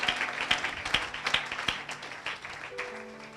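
A church congregation applauds to acclaim Jesus during a French-language sermon, a dense round of clapping with sharp accents that gradually thins out, with sustained organ or keyboard tones entering near the end.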